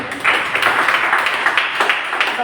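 A church congregation claps in loud, fairly steady rhythmic bursts during a Spanish-language sermon, the claps filling the space without speech over them.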